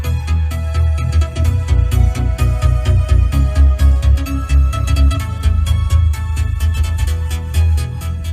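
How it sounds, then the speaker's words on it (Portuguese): Music plays loud and bass-heavy through the Beats sound system inside a Volkswagen T-Cross 1.4 250 TSI Highline, with steady pounding low beats and bright rhythmic percussion filling the cabin throughout. "Conta aqui com o som da Beats, né? Vamos testar o som aqui."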